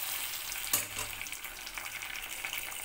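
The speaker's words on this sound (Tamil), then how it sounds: "நம்ம இப்போ நம்ம தாளித்ததை வந்துட்டு இதில் ஊற்றிக்கலாம்" Hot tempering poured into cooked lentil dal, a loud burst of frying sizzle that settles into a steady crackling hiss, close up with no talking.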